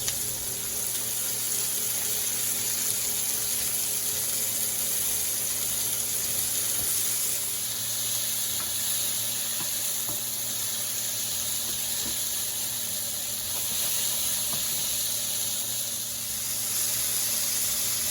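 Garlic and green beans sizzle in a hot pan with an even, continuous hiss that holds steady throughout, with no talking.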